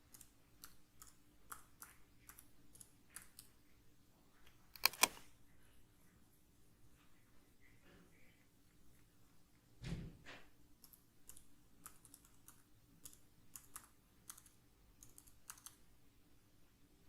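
Quiet, close clicks of a computer keyboard come in light bursts as a username and password are typed, with a couple of sharper knocks partway through.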